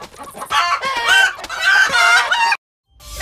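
In the Cartoon Network cartoon Clarence, chickens cluck loudly and a rooster crows, close and busy in a continuous burst, followed by a brief silence before the clucking resumes.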